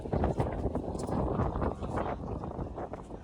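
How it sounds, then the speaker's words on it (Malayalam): Steady wind gusting across an open hilltop at Nandi Hills, a broad rushing roar that swells and eases, buffeting the microphone close by with no other clear sounds. "നല്ല കാറ്റാട്ടോ,"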